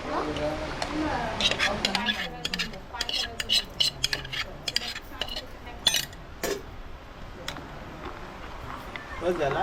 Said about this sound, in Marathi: तर वाटण टाकून घेऊया